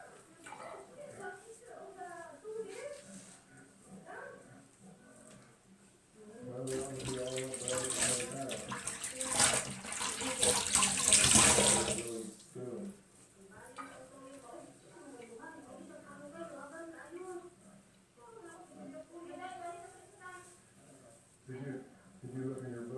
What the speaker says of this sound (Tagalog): malamig na tubig.